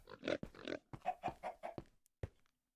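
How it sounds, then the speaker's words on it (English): Pigs in the Minecraft video game oink repeatedly in short grunting bursts, several quick calls close together, then a pause and one final grunt, loud and near with no talk. "I got 2 pigs in there"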